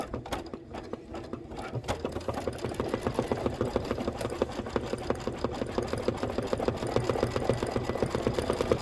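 Embroidery machine stitching steadily, a fast even mechanical chatter that runs throughout at moderate level, alone without talk.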